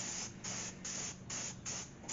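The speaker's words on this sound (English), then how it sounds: "spray down just to keep it from rusting" An aerosol spray can coats bare metal parts of a Gremlin's V-8 engine against rust in several steady hissing bursts with short pauses between them, close and fairly quiet.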